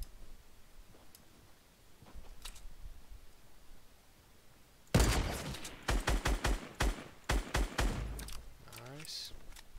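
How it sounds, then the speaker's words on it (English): A sniper rifle shot in Fortnite during a battle royale match, with a sharp loud crack after a quiet stretch, followed by a rapid run of clicking, ticking impacts and game effects. "That was a good fucking sniper shot"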